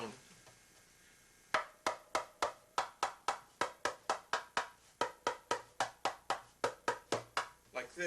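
Darbuka strokes with the thumb or hand edge pressed onto the head, played as a steady run of sharp, dry hits at close range after a quiet opening second.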